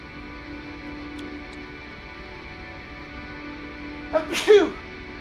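A single sharp human sneeze bursts out near the end, over a quiet steady background hum from a game session.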